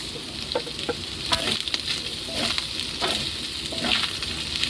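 Ginger, garlic and onion sauté in a hot pan for Bicol Express, giving a steady close sizzle with scattered pops and the scrape of stirring throughout.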